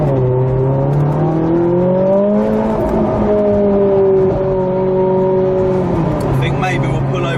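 Ferrari 458 Spider engine heard from inside the car while driving, a loud steady drone with rising and falling pitch, running continuously under people talking.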